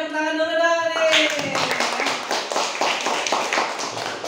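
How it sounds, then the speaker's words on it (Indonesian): A classroom audience at a tourism and hospitality teaching practice session breaks into clapping after a spoken voice fades out, a fairly close patter of hands lasting a few seconds. "Oke, tepuk tangan dulu dong nih"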